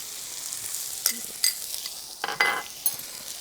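Fresh garlic sears in a skillet with black pepper under a soft, continuous sizzle, broken by several sharp scrapes and clinks of a utensil against the pan, close up and without talk.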